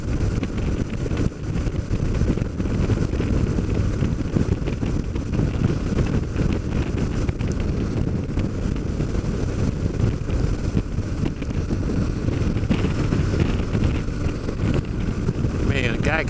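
Steady wind buffets the microphone on a boat ride, roughly 10 to 12 mph, a constant broadband roar with low rumble from start to end and no break.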